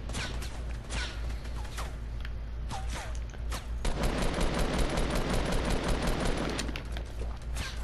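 Video game gunfire in a clan match, with scattered shots early followed by a denser burst of rapid automatic fire, at moderate level over a steady background.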